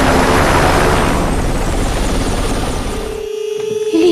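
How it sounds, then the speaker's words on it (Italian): An emergency rescue helicopter arrives at a mountain glacier scene, its loud, close rotor thumping and turbine roar dominating before the noise drops away abruptly near the end, leaving a low hum. "È arrivato l'elicottero del 118."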